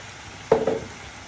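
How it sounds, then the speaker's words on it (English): A spoon scraping and stirring chilli con carne in a hot pan, one short burst of stirring with a light sizzle in the middle, otherwise quiet. "I'm thoroughly going to mix that together and keep cooking that out."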